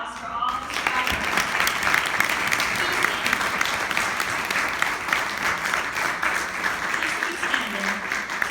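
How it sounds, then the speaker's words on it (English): A room applauds cancer survivors at a foundation support event, with dense sustained clapping that carries steadily from start to finish at a fairly even level. "now let's give a round of applause for all the survivors."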